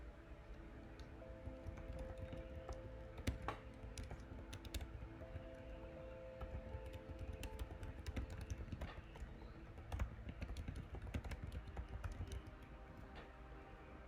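Steady typing on a computer keyboard during a classroom research task on the American Revolution, a continuous run of quick clicky keystrokes with occasional louder taps, fairly close and with no one talking over it.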